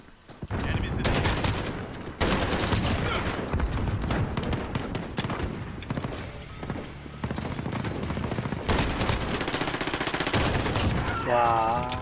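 Long bursts of rapid machine gun fire fill a Call of Duty Modern Warfare multiplayer match on PS4. The fire is loud and close, broken by short pauses, and excited voices speak over it.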